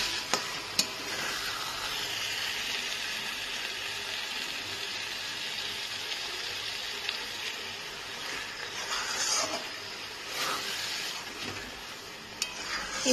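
Shredded Bombay duck (lote fish) fries in a pan, a steady close sizzle running throughout with occasional stirring scrapes and clinks of a utensil, no talking.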